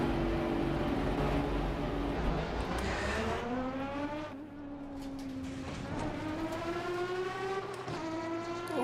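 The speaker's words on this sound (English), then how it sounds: "Listen to that engine." Engine of a GT4 race car in the racing game Assetto Corsa Competizione, revving loud and close with rising and falling gear-by-gear pitch sweeps and a brief lift around the middle, heard alone with no talk.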